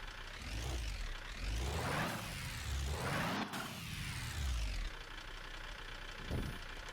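A turbocharged car engine idles with a rough, chugging, tractor-like rumble, its pitch rising and falling as it revs, close by with no voices.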